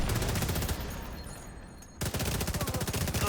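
Rapid bursts of heavy gunfire in a video game crackle densely for most of the stretch, break off into a short lull, then resume as a fast, close, evenly pulsing volley, sound which could include 40 mm grenade launcher fire.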